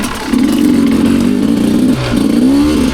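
A 2-stroke enduro motorcycle engine runs loud and close, holding a steady buzzing drone with a slight dip near the two-second mark before it picks back up, with no voices over it.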